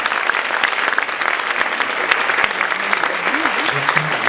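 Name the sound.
applause for Michel Odoul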